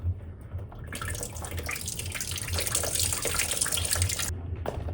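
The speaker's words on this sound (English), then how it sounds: "That's a lot of water. Make sure you got a bucket ready for that stuff." Water pours steadily from a Fujitsu air conditioner into a bucket, a close, continuous splashing stream that starts abruptly and stops short near the end.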